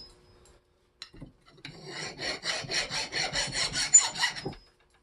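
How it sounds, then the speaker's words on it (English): Hand file rasping rust and built-up crud flat on a Jeep Wrangler front axle part, a close, steady run of about a dozen even back-and-forth strokes after a few light taps. "we're just going to take a file and just get all that crud that's built up off and file it flat."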